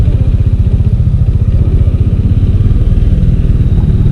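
Motorcycle engines from a group of three motorcycles, a loud, steady low idling throb close by with a rapid regular pulse.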